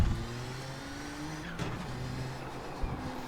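Nissan GTP ZX-T prototype race car in the iRacing sim, engine droning steadily at close range with a steady harmonic whine, a brief sharp burst near the middle and a small thump near the end, no talk.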